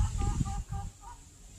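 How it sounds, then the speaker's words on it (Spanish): Hens cluck near a nest in a backyard garden coop, a few soft, short clucks early on, close but fairly quiet, fading out over the second half. "todavía hay otra gallina ahí, dos gallinas más adentro del nido"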